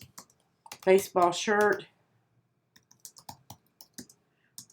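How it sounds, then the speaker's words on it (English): Soft, close keystrokes from typing on a computer keyboard, a short run of light clicks following a brief stretch of speech. "I'm going to type in my template size"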